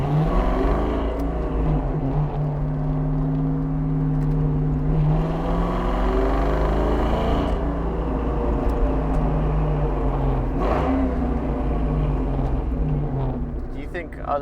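A 1999 Ford Mustang SVT Cobra pace car engine drones loudly and steadily, its pitch shifting as the revs climb and dip through a throttle blip on a gear change, with someone talking over it.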